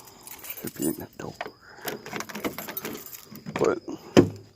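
A set of truck keys jangles in bursts of bright metallic clinks close by, mixed with handling noises, while someone talks.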